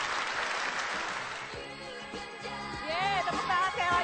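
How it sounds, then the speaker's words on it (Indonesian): Studio audience applause on an Indonesian television talk show, a dense burst of clapping that fades into background murmur while a host's voice talks over it toward the end. "Tepuk tangan sekali lagi dong."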